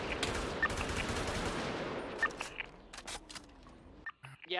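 Dense gunfire from a GTA roleplay shootout with police after a jewellery store holdup, a sustained barrage of rapid shots for several seconds that thins into scattered bursts, with faint talk at moments.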